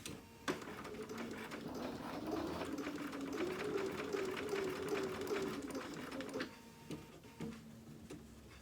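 A sewing machine stitches fabric scallops for a dog dress, running in a fast continuous whirring burst that stops and starts around pauses, near and moderately loud, followed by a few clicks as the fabric is turned.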